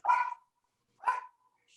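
A dog barks twice, sharp and fairly close, with a pause between the barks. It sounds through an online group video meeting, with no talk over it.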